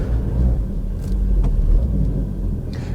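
Volkswagen Golf Mk5 engine starting up and settling into a steady low rumbling idle, close and continuous, with no talk.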